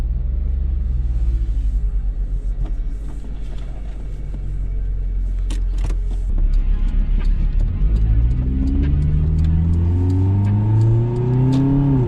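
A car on a nighttime drive heard from inside, deep engine rumble building as it accelerates, pitch climbing steadily through the gear toward the end, loud and close with no talking.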